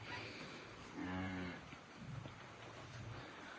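Heifers and calves moo on a cattle farm, one long low call followed by shorter, quieter lowing from the herd, heard at a moderate distance.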